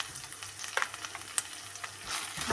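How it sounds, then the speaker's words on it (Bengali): Turmeric, chili, coriander and cumin masala sizzles in a pan for a taro root dish. Stirring scrapes and crackles come through up close, and the frying swells louder near the end. "খুব ভালো মতো আমি মশলাটাকে কষিয়ে নেব"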